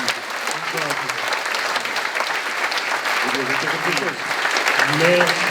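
An audience at a cultural foundation event applauds, a dense, sustained round of clapping from a room full of people, with voices speaking faintly over it.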